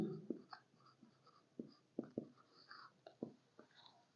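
Pen strokes scratch on paper as an answer is written by hand, soft irregular taps and scrapes close by, quiet and unaccompanied by talk.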